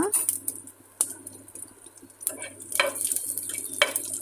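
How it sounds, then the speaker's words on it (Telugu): Crushed garlic fries in a pan for an okra and milk curry, a faint sizzle with a few sharp clinks and scrapes of a spoon against the pan, close by, and no one speaking. "ఇప్పుడు వెల్లుల్లిపాయల్ని సన్ దంచుకొని వేసుకోవాలి ఇవి కొంచెం వేగిన తర్వాత"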